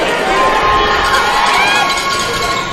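A basketball crowd in a college arena at a men's conference championship game yells and cheers loudly and continuously, a dense roar of many voices close around the listener.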